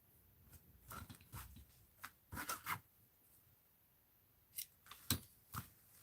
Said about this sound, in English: Here, let's cut a snippet of the gold too.